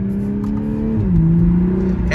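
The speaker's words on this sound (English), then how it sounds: "I can hear a very nice exhaust note" A 2021 Toyota Supra GR's exhaust drones steadily from inside the car while driving, a low engine tone that dips and then settles as revs shift, with a voice talking over it.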